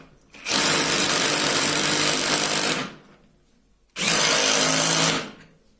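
A DeWalt drill bores into wood at a high torque setting in two loud, close, sustained runs, the first lasting about two seconds and the second shorter, with a brief quiet gap between them.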